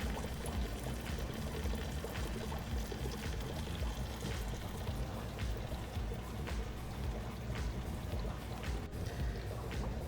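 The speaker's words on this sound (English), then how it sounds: "Simply pour it in and let the flow move it around the water." Fish food poured into an aquarium for breeding Odessa barbs, a steady trickling water sound with constant filter flow throughout, moderately loud and unbroken for the whole stretch.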